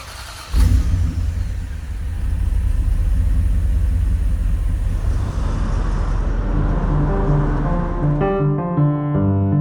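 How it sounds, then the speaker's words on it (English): A Bentley Turbo R's engine starts with a sharp jolt, then settles into a steady, loud low rumble and drone that runs throughout. Near the end, steady tonal notes rise over it. "Let's go for a drive in my Turbo R."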